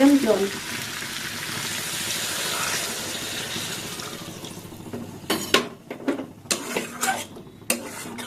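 Water poured into a cooking pan of vegetable curry in a home kitchen: a steady, fairly loud rush and splash for several seconds, then quieter, followed by sharp clatters of utensils against the pan.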